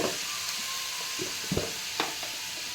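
Mutton keema frying with onions and masala in an Andhra-style pan gives a soft, continuous sizzle with a few scattered stirring knocks, close and moderately quiet, no voices.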